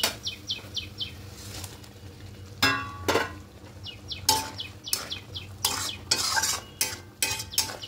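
Okra is stirred into a vegetarian mixture in a pan with a spatula, giving a series of close, irregular scraping and clattering strokes over a low simmering sizzle, with no one talking.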